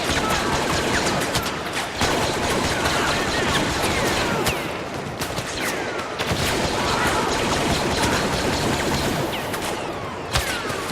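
Steady, dense gunfire from a virtual-reality shooting game aimed and fired with a hand-worn glove, loud and continuous with rapid cracks and bursts over a constant roar.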